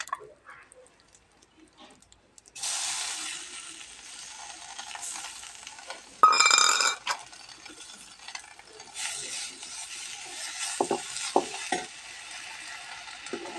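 Grated coconut and spinach leaves frying in an oiled pan while being stirred, a steady close sizzle that starts after a quiet moment, broken by scraping and clinking from the spoon.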